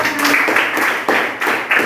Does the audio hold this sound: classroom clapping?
yes